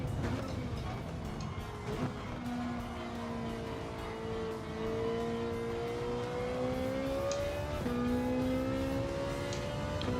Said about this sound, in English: I'm sure it revs a lot higher than the actual GT3 car